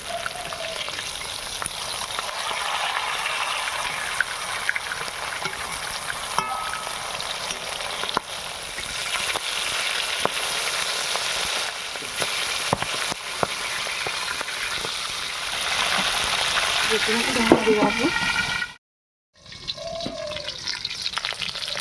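Tengra river fish frying in hot oil, a steady loud sizzle with bubbling and occasional stirring scrapes, broken by a brief silence near the end before the sizzle returns.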